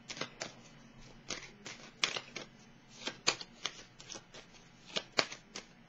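Tarot cards shuffled by hand in a steady run of soft, crisp riffles and flutters, close and fairly quiet, with no talking.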